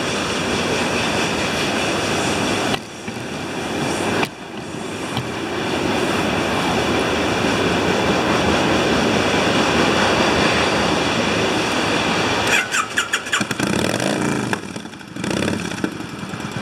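A train passes by, a loud continuous rumbling roar that holds for over ten seconds before breaking into rattling, clattering bursts as it goes by, with no voices.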